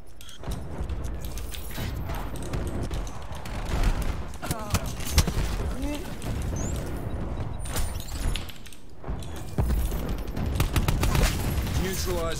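Rapid gunfire and bursts of shots crackle in a Call of Duty Black Ops 4 match, dense and continuous with sharp impacts, while a player talks over the action.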